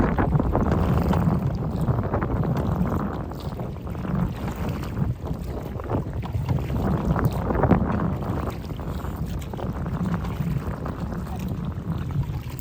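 Strong wind buffets a boat out on the water, a loud continuous roar with rushing gusts and hull noise throughout.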